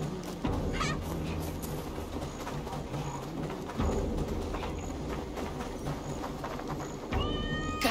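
Cat meowing in the video game Assassin's Creed Valhalla, a few short mews over a steady busy game soundscape with music and ambient noise, no talking.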